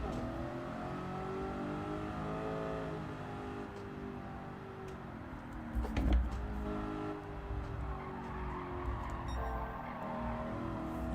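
A BMW race car engine revs hard in Gran Turismo 7 and its pitch rises through the gears. Midway there is a brief louder thump, and then the engine keeps droning steadily.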